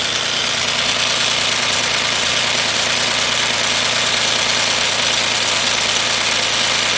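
Rebuilt engine of a Chevy Equinox or Buick Rendezvous after head gasket and timing chain replacement, idling steadily and loudly with a constant mechanical hum and no pauses.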